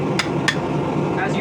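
Two sharp metallic hammer strikes ring out on the eye of a hammer head being reshaped at the forge, followed by a lighter clink, over steady workshop background noise.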